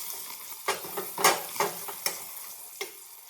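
Onions fry in a pan with a low sizzle, while a utensil stirs and scrapes against the metal in about seven quick, light clinks and taps, heard close and fairly quiet.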